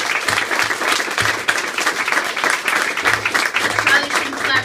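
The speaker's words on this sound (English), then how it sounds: "I probably shouldn't clap so close to the mic." Applause at a pre-opening ceremony for the Liberty Family Success Center, with one person clapping very close to the microphone, sharp loud claps standing out over a steady crowd of applause, and faint voices underneath.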